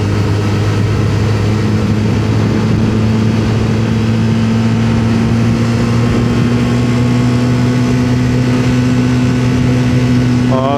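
Engine of an underperforming Suzuki car accelerating hard at high revs in second gear: a loud, steady mid-pitched drone with a strong hum throughout, rising only slightly in pitch, with no speech.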